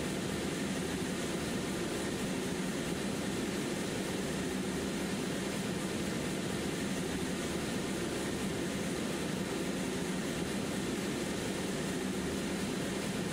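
The auxiliary power unit of a Boeing 727 starts up in the FlyJsim simulation for X-Plane 11, giving a steady broadband roar and whine that holds constant throughout without letup.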